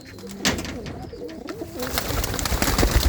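A hand-held ringed pigeon coos in a few low, rolling notes close up, followed by rustling and handling noise that grows busier toward the end.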